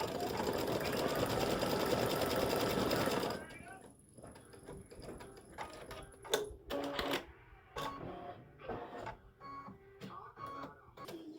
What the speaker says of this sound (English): it's actually color number 3 of the design that is stitching right now.